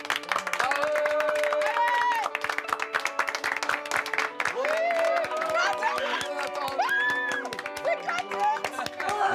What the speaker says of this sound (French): On les applaudit un peu pour les faire venir